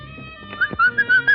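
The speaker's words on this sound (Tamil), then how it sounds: "விசில் அடிச்சாரு" Someone whistles close by in a short series of four or five sharp, shrill bursts that grow more regular toward the end, with faint background noise before them.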